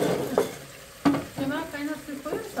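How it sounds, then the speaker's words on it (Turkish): Chicken sizzles and crackles steadily as it fries in a pot, with a few sharper stirring scrapes and clatters breaking through the frying noise. "Şöyle tavuğumuz orada kızarıyor"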